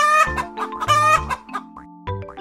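A hen clucks and squawks in a loud, close series of choppy, nasal calls, with no talking over it.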